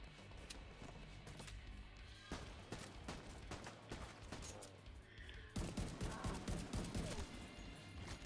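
Gunfire aimed at the player in The Division 2 shooter game: rapid bursts of sharp shots crackling in quick succession, growing denser and louder in the second half, close and intense with no talking.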